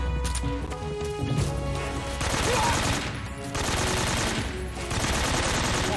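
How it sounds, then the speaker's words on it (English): AK rifle gunfire in Metal Gear Solid 3, loud rapid automatic bursts in long dense strings with brief pauses between volleys, close and dominant. "it's really hard to aim the AK from far away"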